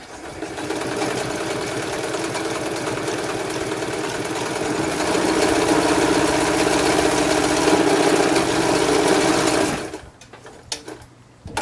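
A serviced metal sewing machine stitches through fleece fabric, a steady close mechanical whir running unbroken for about ten seconds before stopping abruptly, with no talk over it.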